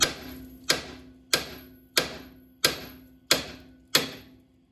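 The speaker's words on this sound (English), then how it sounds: "You have to hammer it right on the side right here." Seven sharp metallic hammer strikes on the side of a Toyota FJ Cruiser upper ball joint ring out at a steady, even pace, each blow followed by a brief decaying ring.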